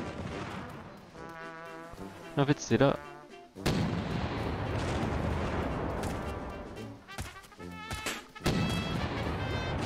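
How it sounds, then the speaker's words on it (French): Cannon fire from cannonballs in the video game Alt F4: a few sharp booming blasts stand out over busy game music and effects, while someone speaks French over the action. "Là, on a les boulets de canon."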